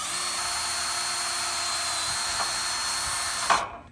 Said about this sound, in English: we're going to start drilling in